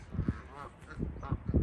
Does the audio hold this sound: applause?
no